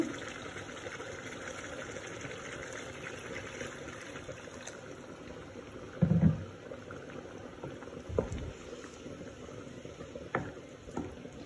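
A splash of water goes into a pan of radish fried in spices for about ten minutes, giving a faint, soft bubbling simmer with a few small splashes and clinks, quiet overall and without speech.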